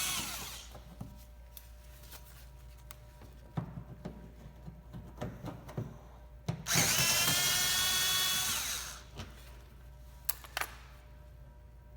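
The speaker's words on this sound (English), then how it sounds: "we're going to take out this screw here and this one that goes up into the fender here, and they are both Phillips screws" Power drill backing Phillips screws out of a Honda Fit front bumper cover near the fender, with scattered clicks and handling noises around one loud, sustained whirring run in the middle.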